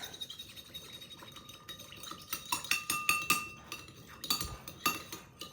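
A spoon clinks repeatedly against a bowl while stirring salt into vinegar, a quick irregular run of bright metallic taps that grows busier midway, close and alone.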